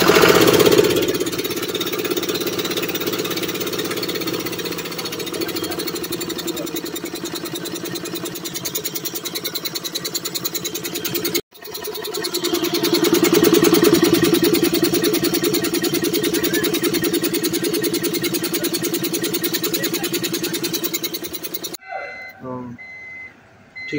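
An Ashok Leyland vehicle engine idles during an air compressor check, a steady rumble with a rapid rhythmic clatter that cuts out briefly midway, resumes, then stops near the end.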